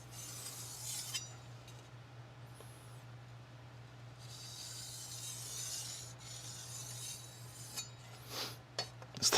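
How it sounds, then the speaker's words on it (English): A large Kitory Chinese cleaver-style chef knife is drawn across a sharpening stone to remove the burr, giving soft, quiet scraping strokes in a few separate bursts over a low steady hum, with no talking. "Just letting the weight of the knife, of course, carry on the stone."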